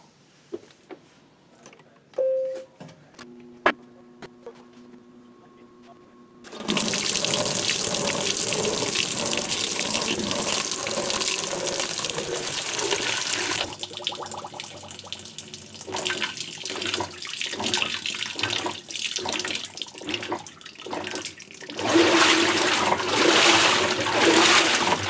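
A Maytag top-load washing machine fills with water on an auto-sensing cycle after a few control beeps: a steady, loud rush of water pours into the drum for the rest of the stretch, with no talking.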